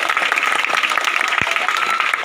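Audience clapping at the inauguration of an anganwadi centre, a steady dense round of applause from a gathered crowd, fairly loud and continuous throughout the short stretch.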